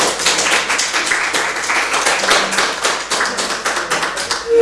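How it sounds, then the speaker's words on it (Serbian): Audience applause at a live talk-show event, a steady wash of many hands clapping, loud and close, sustained without speech. "Molim vas za veliki spontani pljesak"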